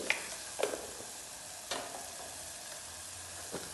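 Chili powder and turmeric being stirred into a potato and paneer curry, with a soft steady sizzle in the pan and a few faint scrapes of a spoon, quiet and close.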